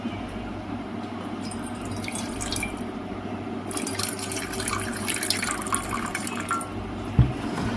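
Water runs steadily into a container while being measured out for a homemade glutathione facial toner, a continuous close trickle and splash that grows brighter partway through, with a small knock near the end.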